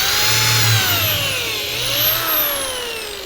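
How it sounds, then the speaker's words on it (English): A power drill bores holes into a 3-foot wooden plank stood on its edge, a loud close whine whose pitch sags under load and rises again, alone without talk. "It's stood on its edge, and I am drilling holes into"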